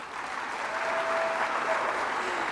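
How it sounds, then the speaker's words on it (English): Steady applause from a crowd at a junior high school 8th grade recognition ceremony, dense and sustained clapping throughout with no talking over it. "Give them a round of applause."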